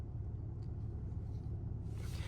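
A cement truck on a building site gives a low, steady engine rumble, faint and continuous with no voices.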